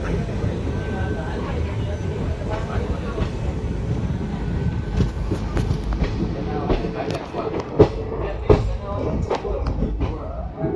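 A passenger express train runs on rails through Maliya in Gujarat, a steady rumble with faint clicks and short sharp knocks from the wheels and carriages, and some talk underneath.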